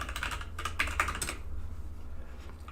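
Quick bursts of computer keyboard typing, a handful of close key clicks over about a second, then quiet room hum with no voices.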